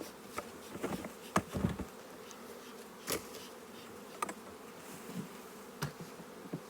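Honey bees buzz steadily around an opened production hive during a hive split, a soft continuous hum with individual bees droning past close by, with no talk.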